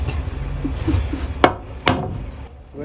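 A hammer striking in a general store workshop, two sharp loud blows spaced about half a second apart over a low background rumble and faint handling noise.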